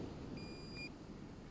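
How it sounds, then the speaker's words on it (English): An Outin Nano portable espresso maker gives a short electronic beep, a thin steady tone lasting about half a second, faint over a low background hum, with no voices. "hold this down for 2 seconds till it beeps."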